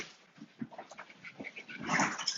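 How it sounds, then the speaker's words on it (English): Dogs whimpering and yipping off in the background, rising into louder excited cries near the end, with no one speaking. "And my dogs are going berserk"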